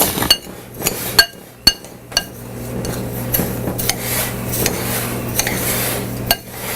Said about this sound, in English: And we just simply stir it up real good,